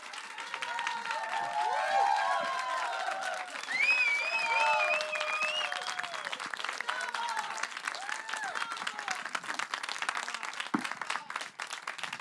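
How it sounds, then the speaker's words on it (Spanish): A television studio audience applauds to welcome a singer on stage, a dense, sustained clapping that carries on for several seconds, with some cheering and musical tones running beneath it. "la audiencia rompe en aplausos para recibir a nuestra grandísima estrella"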